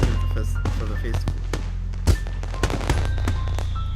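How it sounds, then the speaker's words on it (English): In the Katawa Shoujo visual novel, a festival firework whistles and bursts against the night sky, followed by several sharp crackling pops spread over a few seconds above a low steady hum. "the whistle of the first firework rings out before it explodes into a vibrant shower of blue against the night sky"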